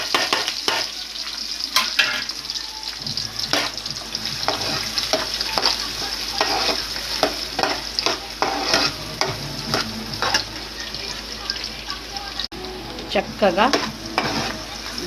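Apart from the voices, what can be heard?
onions and green chillies frying in hot oil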